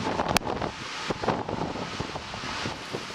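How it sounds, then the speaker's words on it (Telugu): Strong gusting wind from Cyclone Hudhud in Visakhapatnam, a continuous roar of buffeting wind and mic rumble with irregular sharp bursts throughout. "ఉదయం నిద్ర లేస్తూనే విశాఖ వాసులు విన్న భీకర వాయు శబ్దాలివి."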